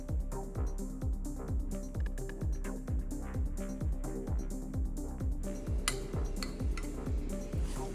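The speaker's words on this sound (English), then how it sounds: "Give it a stir, stir," A spoon scrapes steadily around a pot of mashed potatoes in quick, regular strokes, a soft rhythmic stirring with faint clinks toward the end.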